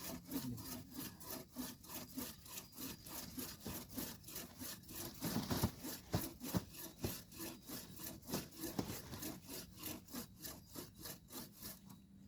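A hand saw cuts through wood in steady back-and-forth strokes, a rhythmic rasping that continues throughout, close and moderately quiet.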